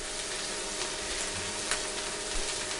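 Beaten egg mixture sizzles steadily in a hot frying pan while cooking a Japanese meal, a dense continuous hiss with faint crackles and no talking.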